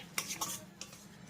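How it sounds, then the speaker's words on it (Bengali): A spoon scrapes and clinks against a pan a few times while a thick spice paste is stirred into vegetables, close and fairly quiet. "এই মশলাটাকেও আমি সবজির সঙ্গে খুব ভালো করে মিশিয়ে দেব"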